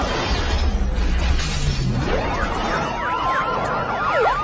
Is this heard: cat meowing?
no